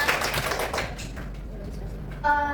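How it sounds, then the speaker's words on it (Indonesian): A classroom of young children claps hands together, a loud burst of scattered, overlapping clapping that thins out and fades, followed by a voice speaking. "Tepuk tangan dulu semuanya."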